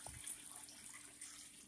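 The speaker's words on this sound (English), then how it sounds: "she's now pouring the water in" Water is poured by hand into a Garatic portable mini compact washer/dryer, making a steady, faint, continuous rush with no pauses for a couple of seconds.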